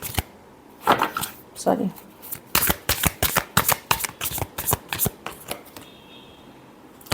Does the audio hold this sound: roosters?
no